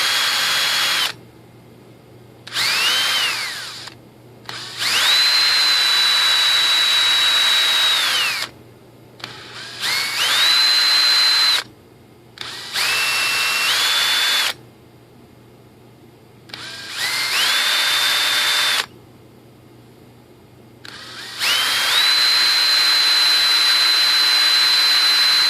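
An electric drill works a composite rudder part for a 2.6 m ASH26 sailplane model in repeated whining bursts of several seconds each, its pitch rising and holding steady, with short pauses between runs, loud and near.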